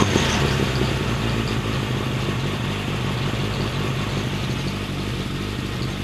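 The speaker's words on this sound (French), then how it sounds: "Le ralenti est stable." A Suzuki 1200 Bandit motorcycle idling steadily after carburetor synchronization, its engine holding a low, even, continuous rumble close by with no talking over it.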